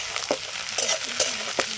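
Cubed potato, eggplant and green peas fry together in hot oil while being stirred, a soft continuous sizzle broken by a few sharp spatula clinks and scrapes against the pan over a short stretch.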